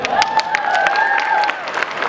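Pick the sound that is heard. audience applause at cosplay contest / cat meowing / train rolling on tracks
audience applause at cosplay contest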